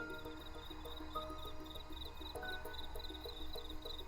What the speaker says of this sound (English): He heard the quiet hum of crickets